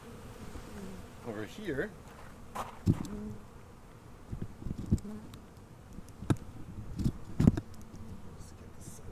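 Bees flying around an open hive during a full inspection, a steady low humming buzz with scattered sharper buzzes close by, under a man's occasional speech.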